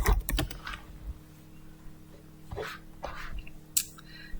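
Keystrokes from a computer keyboard come in a quick cluster at the start and then in sparse, scattered taps over a low steady hum, close and fairly quiet.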